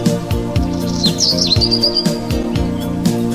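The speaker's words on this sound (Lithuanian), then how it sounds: "čiulba paukščiai mums visiems labai smagu" Birds chirp and trill brightly over steady, plucked music that plays throughout.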